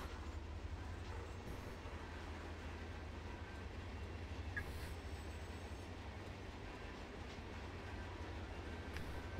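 Trains rumble across a bridge in the Run8 V2 train simulator, a steady low rolling drone with faint rail clatter running throughout, moderately distant and with no voices.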